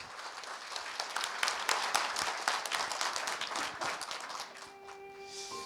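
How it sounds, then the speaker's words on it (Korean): An audience claps warmly to welcome a Seoul National University religious studies professor to the lecture stage. The dense, steady applause fills the room at moderate volume, thins out near the end, and a faint tone lingers. "교수님을 따뜻한 박수로 맞이해 주시기 바랍니다"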